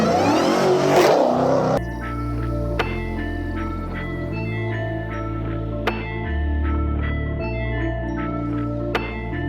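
A Hellcat Charger-style car with a loud exhaust drives through gears, the engine rising in revs and dropping at each shift several times, heard from inside the car, deep and prominent throughout.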